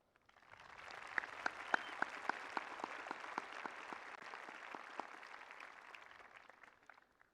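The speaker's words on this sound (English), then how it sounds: "please join me in applauding the teachers who aided us in our journey" Applause for teachers at a high school graduation ceremony, a soft, distant wash of many hands clapping with a few sharper nearby claps, swelling briefly and then tapering off over about seven seconds.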